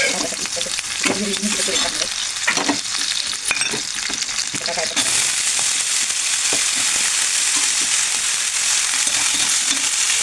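Potatoes and roasted peanuts fry in hot oil, giving a loud, steady, close sizzle that grows denser and hissier halfway through, with occasional stirring scrapes and no talking.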